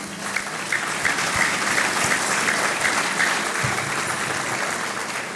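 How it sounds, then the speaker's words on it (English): Audience applause at a business luncheon, steady dense clapping from a large room sustained for several seconds at close range, with no talking over it. "Give them a round of applause, please."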